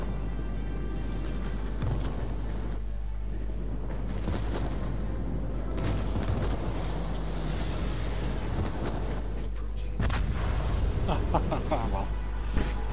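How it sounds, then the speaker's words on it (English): Anti-aircraft fire and explosions from a World of Warships naval battle as planes go down burning, with rumbling blasts and crackling bursts over a constant low roar, loud and dense. "Like the three planes rising up, burning, explosions going off, AAA everywhere."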